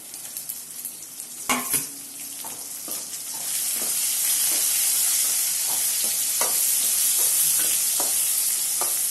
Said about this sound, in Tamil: இப்போ நம்ம வந்து தக்காளியை சேர்த்து நல்லா வதக்கலாம்